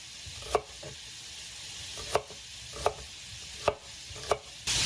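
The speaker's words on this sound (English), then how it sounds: "We're just going to get them browned, and then we're going to cook them through later." Chicken hearts browning in a hot pan give a steady close sizzle, broken by about five sharp taps or scrapes of a utensil spaced roughly a second apart; nobody speaks.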